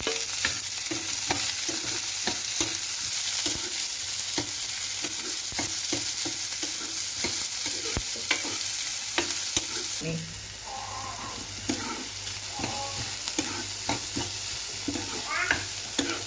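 Onions frying in a pan, stirred until browned, while a bitter melon dish is cooked. A steady hiss sits under frequent scraping stir strokes and small pops, close and fairly constant, and the texture changes partway through.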